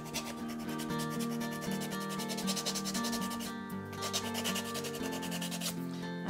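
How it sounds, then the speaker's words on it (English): An emery board of 180 grit files the edge of a plastic bank card, giving a continuous close rasping rub with steady back-and-forth strokes; faint music plays underneath. "I'm going to take my emery board and I'm going to file it out"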